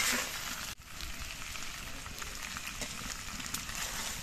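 Fried sea fish and brinjal sautéed together in a pan, a soft, steady sizzle with light stirring, fairly faint and even, briefly dipping near the start, with no speech.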